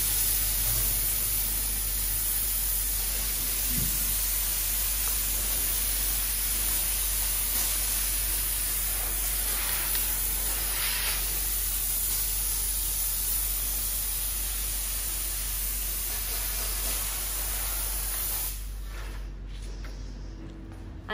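Steam cleaner steaming furniture, a rocking chair, in a home with a window open: a steady broadband hiss runs nearly unbroken for about twenty seconds, fairly loud and close, easing off near the end.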